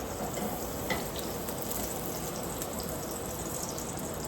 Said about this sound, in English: And a little bit of butter. I want that to melt.